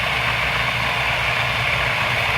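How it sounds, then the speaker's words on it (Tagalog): At a water well drilling site, a pump engine runs in a steady, loud, unbroken drone with a deep low rumble. "Ito guys yung pump natin, no?"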